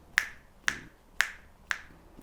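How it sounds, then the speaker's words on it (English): Five crisp finger snaps ring out at an even, steady tempo, each one sharp and close, evenly spaced about half a second apart, with no voices. "just click your fingers with it"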